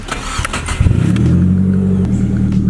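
A Nissan 240SX with a swapped SR20 engine cranks briefly, catches and starts, then revs up and settles into a steady running rumble, loud and close.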